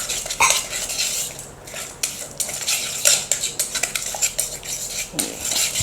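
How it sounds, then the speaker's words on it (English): Pepper, garlic and spices being mixed in a bowl for a fish marinade, with quick metallic spoon clinks and scraping against the bowl in an uneven rhythm, close up. "These are spices, so we'll mix everything together."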